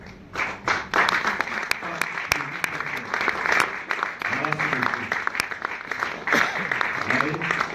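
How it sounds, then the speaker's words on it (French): Audience applause greets an arriving artist at a live magic show broadcast on TV in Douala; steady crowd clapping with sharp individual claps, mixed with a voice talking over it. "je vous propose d'acclamer très fort celui qui va arriver"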